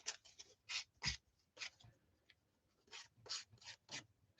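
Craft paper edges being sanded down at a scrapbooking table, heard as a series of short, close, raspy rubbing strokes in irregular bursts with brief pauses between them.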